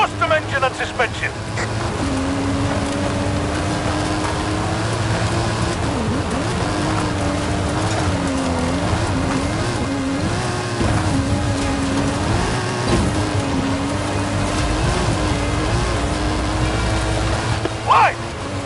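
A custom-built stunt car with a custom engine and suspension drives in Forza Horizon 5, its engine humming steadily with pitch rising and falling as it climbs a hill, while people talk over it throughout.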